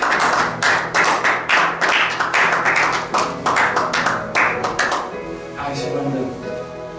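A congregation at a church service claps together to acclaim God, a loud burst of many hands in rough rhythm. The clapping fades after about five seconds into murmuring voices.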